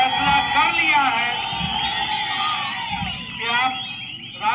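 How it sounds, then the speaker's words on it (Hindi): An election rally crowd in Karnataka cheers and whistles, with shrill rising and falling whistles and whoops over a rumble of applause, swelling and fading in waves and growing louder near the end. "आपकी तालियों की गड़गड़ाहट और सीटियों से मैं समझ जाता हूं"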